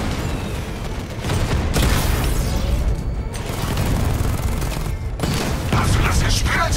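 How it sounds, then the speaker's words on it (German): Gunfire in Batman: Arkham Knight, heavy rapid bursts of shots with deep booms and rumbling impacts rolling on throughout, loud and dense with only brief lulls. "Ich muss wahrscheinlich auf ihn schießen, oder?"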